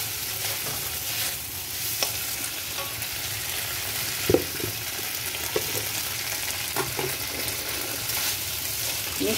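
Cumin seeds fry in hot oil in a pan with a steady, soft sizzle and a few faint clinks and stirs, no one speaking.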